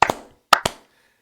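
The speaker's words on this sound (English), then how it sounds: "let's see if we can get a clap" Two double claps ring out close and sharp, a quick pair, a pause, then another quick pair, each fading fast into silence with no voices.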